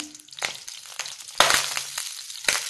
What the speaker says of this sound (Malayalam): പാൻ ചൂടാകുമ്പോൾ 2 ടീസ്പൂൺ വെളിച്ചെണ്ണ ഒഴിച്ചു കൊടുക്കാം. കടുക് പൊട്ടിക്കാം.